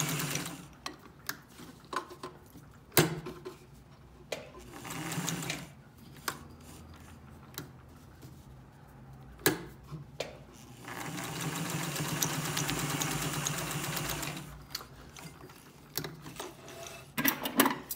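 Vintage Singer 201 sewing machine sewing a long-length stitch, its motor whirring in steady bursts between clicks and handling noises, with a longer continuous run in the middle, close and clear.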